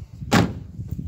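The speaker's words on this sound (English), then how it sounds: "this door shut so beautifully" The cab door of a Mitsubishi Fuso Canter truck shuts with a single solid, close thunk against a faint background hum. No one speaks.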